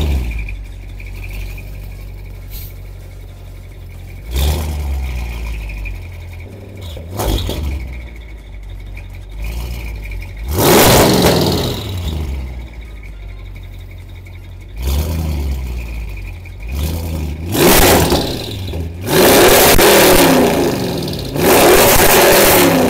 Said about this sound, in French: Oh là là, le V8.